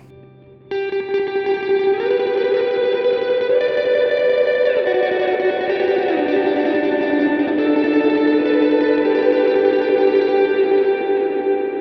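Electric guitar played through a Line 6 HX Stomp with big delay and reverb, a pad-like setting, sustaining layered chords that swell and wash together, loud and continuous with no talking.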